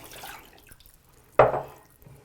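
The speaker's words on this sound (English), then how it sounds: "You're gonna want to dump your water." Dirty paint water dumped into a bathroom sink, a sudden splashing pour that starts loud and fades over about half a second, following quieter faint trickling.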